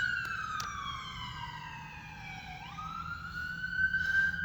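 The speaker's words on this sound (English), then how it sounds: "So many sirens in this town." A wailing emergency siren in a town street, its pitch sweeping downward and then jumping back up, steady and fairly close over low traffic rumble, with no talking.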